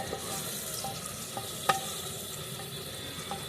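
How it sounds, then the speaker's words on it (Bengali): Chopped onion fries in a pan for a homestyle mutton and potato curry, a continuous soft sizzle with occasional light scrapes and taps of stirring, one sharper clack in the middle, and no voices. "পেঁয়াজটা ভাজা হচ্ছে"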